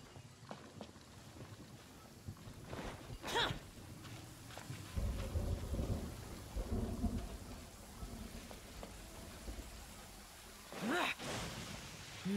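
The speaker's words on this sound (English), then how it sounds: "Demons do not stop for the rain" Rain falling in the video game Genshin Impact, with rolls of thunder rumbling through a steady, soft downpour; low crashes swell midway and again near the end, with no speech.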